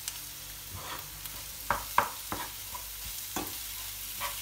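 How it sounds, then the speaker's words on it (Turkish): Tomato and pepper paste stirred into onions frying in a pan, a soft steady sizzle with several sharp spoon scrapes and clinks at uneven intervals, close by and with no talking. "Soğanlar renk değiştirmeye başladığında içine şöyle domates ve biber salçası karışık."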